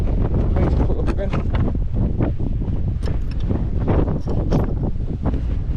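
Strong wind buffeting a microphone outdoors by a gate on an upland walk, loud continuous roaring gusts with occasional voice underneath.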